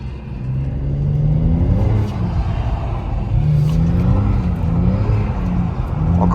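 A BMW M3 engine revs up and down repeatedly while drifting on a track, rising and falling in pitch as the car slides, loud and close with a rumbling undertone.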